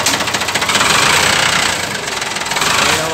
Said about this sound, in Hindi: आवाज़ आपने सुनी ली इस ट्रैक्टर की